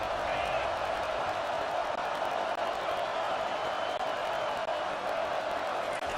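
Stadium crowd roar in College Football 25, a steady dense wall of cheering throughout, loud and continuous with no distinct claps standing out.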